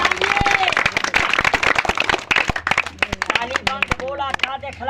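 A crowd at an outdoor street magic show claps in dense, lively bursts that thin out toward the end, with a voice calling out loudly over the applause.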